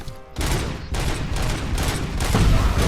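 Heavy big-gun fire in the video game RoboCop Rogue City, a loud burst of rapid shots followed by continuous pounding volleys that keep building, alone with no talk.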